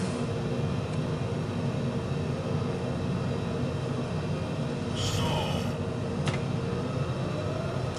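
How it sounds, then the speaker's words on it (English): Microsoft Flight Simulator 2020 cockpit audio on approach: a steady, loud engine and wind drone throughout, with a brief higher-pitched stall warning tone sounding near the middle. "So just from that stall warning"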